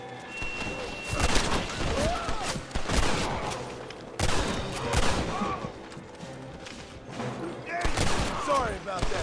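Gunshots in Red Dead Redemption ring out in scattered bursts between overlapping voices, with several sharp cracks close by over a busy game soundscape.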